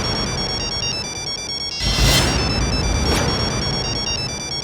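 A phone ringtone plays from an incoming call, a steady repeating electronic melody with bright harmonic tones, fairly loud and close, briefly overlapped by a burst of noise in the middle.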